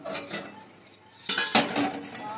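A lid comes off a pot of cooked mango pickle with two sharp metallic clanks, after a quieter stretch of soft kitchen clatter.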